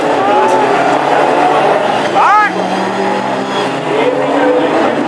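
Hot rod race cars pull away at the start of a race on an oval track, a dense loud engine roar with a rising whine, heard under a commentator's continuous excited talk.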